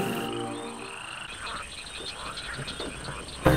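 Many frogs croak in a dense, overlapping chorus, steady and fairly close, ending with a brief louder knock.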